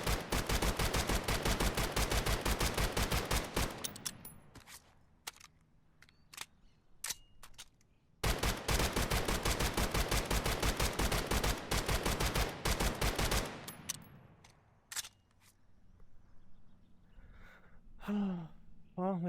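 Gunfire in a VR tactical shooter game: two long bursts of rapid automatic fire separated by a short lull, then a few scattered single shots and a brief voice near the end.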